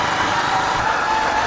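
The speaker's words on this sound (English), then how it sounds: "This is called engine braking." A motorcycle in first gear with the throttle closed is engine braking down a hill road in Meghalaya, giving a steady, unbroken engine drone mixed with road and wind noise.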